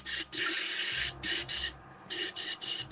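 An airbrush spraying in repeated bursts while being cleaned out inside, a loud hissing blast that cuts off and restarts in several short bursts, with a brief quiet gap midway.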